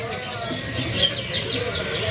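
A mocha-coloured loper canary chirps in quick, high trills that repeat several times over about two seconds, with someone talking over the birdsong.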